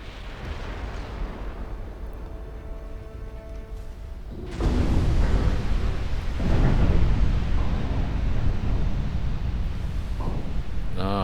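A Frederick-class battleship in a naval warfare game explodes from a flash fire during a night fight, a sudden heavy booming blast that rolls into a long, loud rumble of follow-on detonations.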